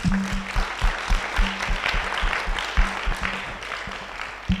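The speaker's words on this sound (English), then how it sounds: "Let's give her a round of applause." An audience applauds the chief guest at a school World Children's Day event, a steady wash of clapping over a low, pulsing tonal hum.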